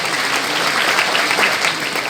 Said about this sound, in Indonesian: Tepuk tangan untuk Ibu Bupati Indramayu.